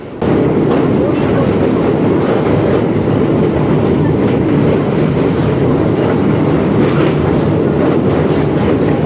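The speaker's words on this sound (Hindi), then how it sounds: "हमारा बेस्ट पार्ट यही होता है जब हमारी ट्रेन रिवर के ऊपर से गुजरती है।" A local passenger train rolls over a river bridge, a loud steady rumble of wheels and carriages with faint clatter throughout.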